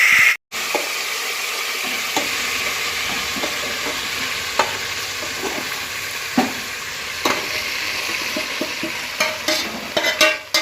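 Continuous wet stirring of a methi muthiya dough mixture with hing and lemon juice, with a soft scraping swish and scattered light clicks of a spoon against the bowl, close and steady with no talking.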